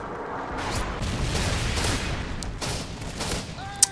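Gunfire crackles through a Modern Warfare 3 match, a dense mid-distance volley of shots and impacts running throughout with a sharp louder report near the end.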